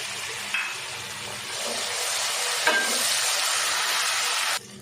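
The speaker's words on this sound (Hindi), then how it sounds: "एक से 2 मिनट अदरक लहसुन हमने भून लिया।" Steady sizzling and frying of ginger and garlic in a pan, a dense hiss with occasional stirring clinks, continuous for several seconds before cutting off.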